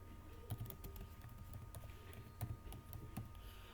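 Keys are tapped on a computer keyboard in faint, scattered clicks and small bursts, close but quiet, with no talking.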